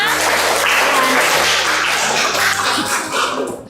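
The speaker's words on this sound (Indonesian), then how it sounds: "Kita berikan aplaus untuk kita semua." A classroom at a vocational high school breaks into steady, dense applause for several seconds, loud and close, fading slightly at the end.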